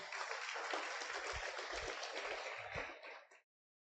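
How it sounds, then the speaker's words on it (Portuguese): A church congregation applauding, a dense wash of clapping that holds steady with a few low thumps beneath, then fades and cuts off sharply near the end. "aplauda bem forte a Ele primeiro"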